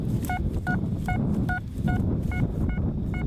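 A metal detector gives a quick series of about eight crisp, evenly spaced beeps over a buried target about three inches down, heard close over steady outdoor background noise.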